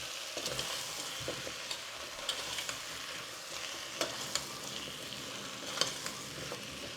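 Spice masala being stirred in a pan over a low gas flame, with a steady soft sizzle and repeated scraping strokes of a spoon, close and even with no talking.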